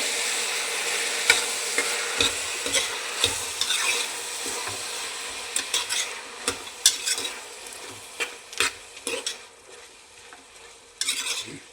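Tomatoes cooking in oil in a pan are stirred, with a steady soft sizzle underneath and repeated scraping and clinking strokes of a spoon against the pan, close and alone.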